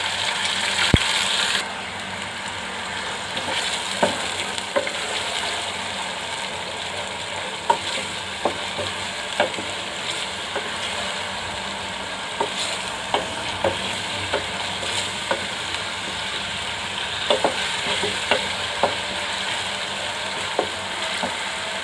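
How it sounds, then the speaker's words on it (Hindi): Ginger garlic paste frying and being stirred with browned onions in a pan for mushroom korma: a steady sizzle with recurring light scrapes and taps of a spoon, close and moderate in level. "जो लहसुन अदरक का पेस्ट भून चुका है"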